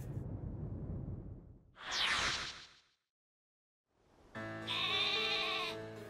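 Sheep Pokémon bleating in Pokémon Sword: a low rumbling cry, then a short rising bleat, and after a pause a longer, loud, tonal electronic bleat, each clear and without speech over them.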